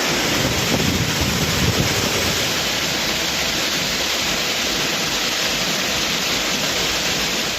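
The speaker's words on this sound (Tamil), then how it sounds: "குற்றால அருவிகளில் இப்படி வெள்ளம் ஆர்ப்பரித்து கொட்டுவதால்" Courtallam waterfalls in heavy flood roar with a dense, constant wall of crashing water, loud and unbroken throughout, with wind buffeting the microphone and no voices.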